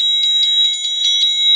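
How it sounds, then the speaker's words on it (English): Electronic alarm bell ringing for dinner time, a bright high-pitched repeating ring pulsing in quick regular bursts, loud and close with no voices. "sound the alarm. It's dinner time"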